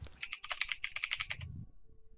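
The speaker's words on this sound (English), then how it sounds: "I'm hearing the serious typing." Quick bursts of keystrokes clatter on a computer keyboard, a rapid run of close, crisp clicks that stops abruptly, leaving a low murmur and then near silence.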